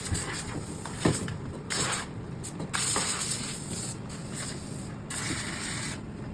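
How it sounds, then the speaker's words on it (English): Compressed air blows in repeated bursts through the channels of an endoscope to dry it during reprocessing, a close hissing that starts and stops in short pulses of varying length. "So make sure it's appropriate air pressure going through."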